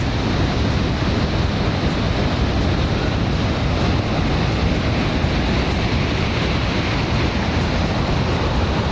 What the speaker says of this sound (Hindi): नीचे आप नदी का शोर देखिए